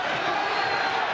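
Crowd at a boxing match cheering in Stockton, California, a steady dense roar of many voices filling the short moment without a break.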